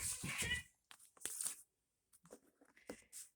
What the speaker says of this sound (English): I don't know what those cats are doing over there. I'm sure you heard them.